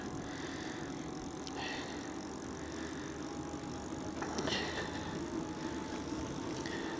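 A Velotric Discover 3 e-bike climbs a roughly 10% hill on throttle only, giving a faint steady hum with tyre and road noise, light rattles and a few brief clicks, with no voices.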